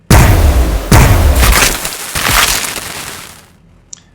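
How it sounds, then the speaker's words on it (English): Cannon fire in Warhammer 40K Battlesector, Astra Militarum against Tyranids: two deep, heavy booms in quick succession, with a rumbling roll and debris noise trailing off over a few seconds, then a small click. "Firing cannon."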